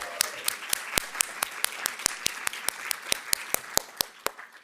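An audience applauds curator of digital art Christiane Paul at a lecture, with a steady round of clapping and sharp individual claps standing out through the spread of hands, with no talking.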